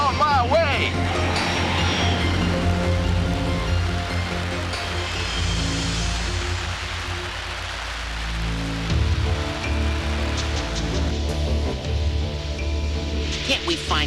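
Rain falls steadily and heavily on surfaces in an animated sci-fi scene, a continuous dense hiss throughout, mixed with a music score and brief voices.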